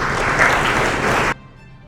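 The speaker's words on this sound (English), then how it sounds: "Let's give her another warm round of applause." Audience applause at a real estate firm's 20th anniversary evening at the Galadari Hotel, a loud, close burst of many hands clapping that cuts off abruptly, leaving near silence.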